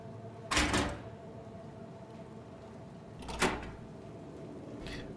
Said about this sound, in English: We pull this drawer.